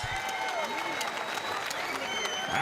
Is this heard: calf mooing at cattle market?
no